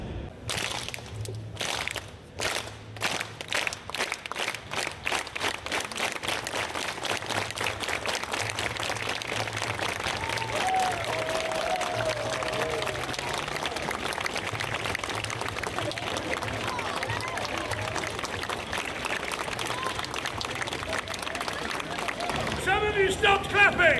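Audience at a Fringe festival show applauding at length, steady dense clapping that keeps going for over twenty seconds, with some rhythmic claps at the start and a faint voice near the end.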